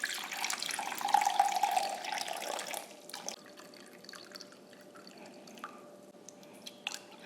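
Water runs from a tap into a container on a kitchen scale while ingredients for croissant dough are weighed out. A steady splashing stream lasts about three seconds, then stops, leaving a quiet room with a few faint drips and clicks.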